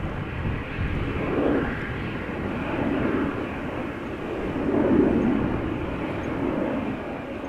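A KLM Boeing 737-800, 24 years old and bound for Copenhagen, rumbles at Amsterdam Schiphol with a broad, steady jet roar that swells and eases in waves, moderately loud and without talk.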